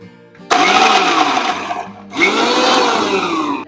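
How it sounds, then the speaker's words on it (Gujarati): Morphy Richards Icon mixer grinder blending six garlic cloves, a piece of ginger and a green chilli into paste: two loud, steady whirring bursts close by, separated by a short pause. "હું મર્ફી રિચર્સનું આઇકોન મિક્સર વાપરું છું, જેમાં બધી વસ્તુ એકદમ મસ્ત ગ્રાઇન્ડ થાય છે."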